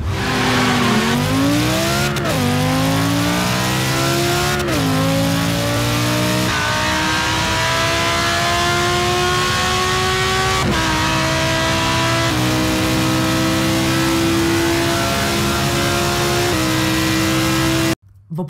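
A Bugatti supercar with a two-stage turbo engine roars continuously in the Forza racing game, loud and close, its engine note climbing through repeated gear shifts as it accelerates hard, with no talk over it.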